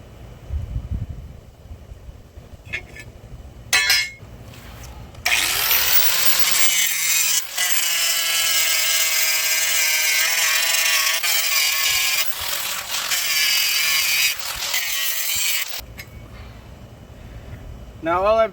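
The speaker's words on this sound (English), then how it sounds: "take the grinder and clean up the paint on the metal bed frame" An angle grinder strips paint from the metal bed frame of a Hustler Raptor zero-turn mower. It makes a loud, steady, close whine for about ten seconds, and someone talks before and after the grinding.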